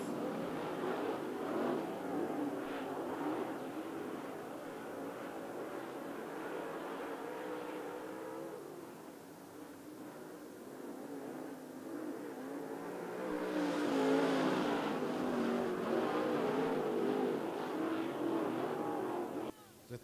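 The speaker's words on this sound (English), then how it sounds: "Coming out of turn number four, green flag. Heat race number two, SWDRA late models." SWDRA late model race cars roar around a dirt speedway in a heat race at Canyon Speedway Park, a steady engine drone that swells as the pack accelerates and passes, with an announcer talking over it.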